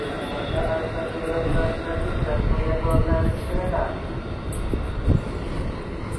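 A KRL commuter electric train bound for Jakarta Kota rumbles through a station, a steady low mechanical roar with hiss and occasional clanks, close and continuous throughout.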